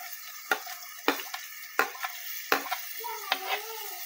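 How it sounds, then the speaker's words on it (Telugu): Onions and green chillies fry in oil in a pan, with a steady sizzle and a few sharp scraping clicks as a spoon stirs them at intervals, close up and with no speech. "సో ఈ ఆయిల్లో అయితే నేను ఆనియన్స్ వేసేస్తున్నాను."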